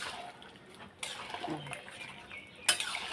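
Spoon scraping and clinking in a pan as peas are stirred into a potato and pea curry, with faint bubbling, a few soft metallic knocks and a sharper clink near the end, all quiet and close.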